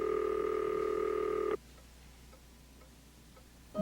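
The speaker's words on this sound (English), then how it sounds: "The line is ringing through now." A telephone line ringing through on a 1989 landline call: a loud steady ring tone for about a second and a half, a pause with faint ticking, then the ring starting again.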